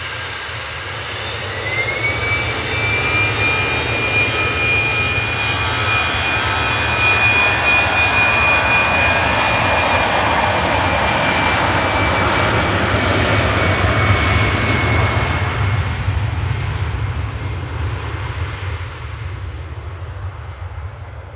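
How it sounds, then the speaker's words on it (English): An easyJet Airbus A319 jet departs Manchester Airport bound for Amsterdam, its engines building to a loud, sustained roar with a rising whine that swells over the middle and fades gradually toward the end, heard alone without voices. "Next to depart is EasyJet Amsterdam, A319,"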